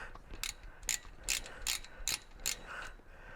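Ratchet clicking in short bursts as bolts come off the rear differential cover of a 1997 Jeep TJ Wrangler, about six quick sets of sharp metallic clicks spaced roughly half a second apart, close by with no talk.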